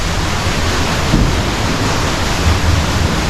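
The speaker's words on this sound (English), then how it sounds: "Underneath shot of this water wheel" Water wheel at a historic iron furnace beside the casting house, heard as a loud, steady rush of falling and churning water, broadband and continuous, with no voices.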